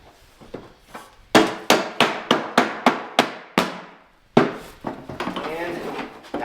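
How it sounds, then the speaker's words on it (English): A rubber mallet taps plastic legs into moulded plastic slots on a Gold Maker unit: a few light taps, then a quick run of eight sharp, evenly spaced knocks, a pause, and more knocks under talk. "you can use a hammer, rubber mallets preferred. Just tap them in place like that"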